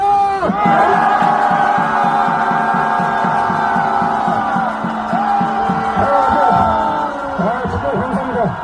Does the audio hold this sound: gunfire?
no